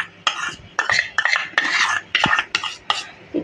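A spoon stirs milk and cornflour in a bowl, a series of about seven brisk, close metallic scraping strokes clinking against the sides in a quick rhythm.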